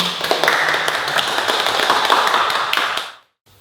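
Students clap their hands together in a dense burst of applause for about three seconds, then it stops abruptly, leaving near silence.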